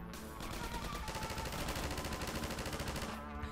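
Enemy gunfire in Half-Life 2 rattles as a continuous rapid automatic burst, loud and steady for several seconds before trailing off.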